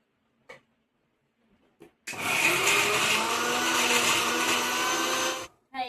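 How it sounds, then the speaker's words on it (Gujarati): After a few soft clicks, a mixer grinder roars into a loud, steady whirr for about three and a half seconds, blending crushed raw mango, then cuts off abruptly, followed by a brief knock. "મિક્સરમાં એ કરી દઈએ"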